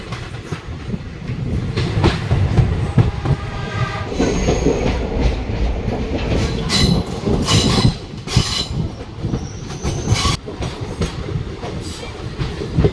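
DEMU train running between Siliguri and Sivok, crossing a bridge over the Sevoke river in hilly forest, with a steady loud rumble of wheels on rail and clacking joints throughout, plus occasional higher squeals and rattles near the end.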